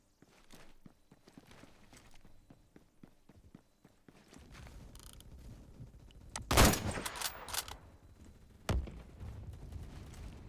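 Gunfire in the shooter game Phantom Forces, with a soft run of footstep-like taps giving way to a couple of sharp, loud bursts of shots near the middle and end.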